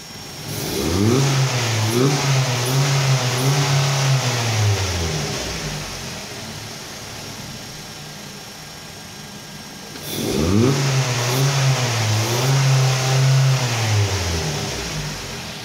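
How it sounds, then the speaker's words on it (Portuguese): A Ford Focus 2.0 Duratec with a sport air filter revs up hard twice, a deep throaty roar climbing in pitch and falling back, with a steady idle rumble between the bursts. "a hora que você acelerar mesmo, que ele vai dar aquele ronco mais esportivo ao veículo"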